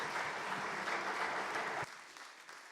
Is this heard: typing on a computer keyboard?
no